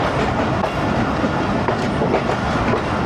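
Allama Iqbal Express passenger train running on rail tracks between Lahore and Narowal, a steady loud rumble with faint rhythmic clickety-clack of wheels, heard from on board.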